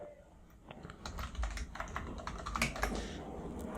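Keys click in quick irregular bursts as a password is typed on a Mac keyboard, close and fairly quiet, with short pauses between groups of strokes and no talk.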